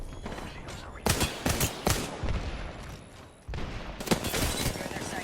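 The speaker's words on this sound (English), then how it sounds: "A second squad is firing at us." Apex Legends gunfire as a second squad opens up, with several sharp bursts of shots in quick succession, some close and loud, broken by brief quieter stretches of game ambience.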